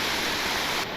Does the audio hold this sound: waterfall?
yes